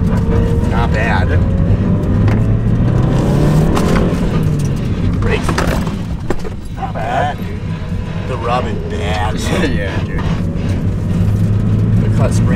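Modified old Honda Civic driving with its tires rubbing, a steady engine and road rumble heard from inside the car under continuous talk from the occupants.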